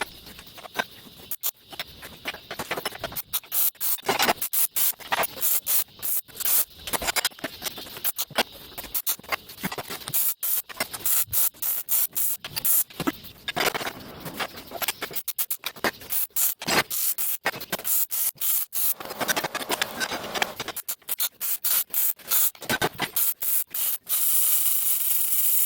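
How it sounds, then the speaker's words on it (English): Grinding down welds on a metal shop project, a close, harsh abrasive rasp in choppy repeated bursts with short gaps, continuing for over twenty seconds without talk. "Since these are going to bolt up against the wall, we needed to grind down these welds."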